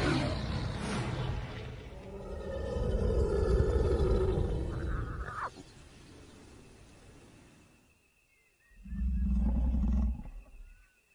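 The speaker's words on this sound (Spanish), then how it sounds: "Se oye otro rugido" An African lion roars loudly and close, a long rising then fading roar, followed after a short quiet by a second deep, powerful burst.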